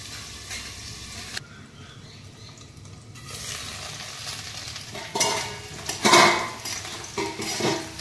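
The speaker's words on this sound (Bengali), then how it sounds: "এইভাবে আমি আলুটাকে নেড়ে দেবো।" Potatoes fry in a pan with a steady sizzle while a metal spatula stirs and scrapes them, clinking against the pan in bursts after a brief quieter stretch.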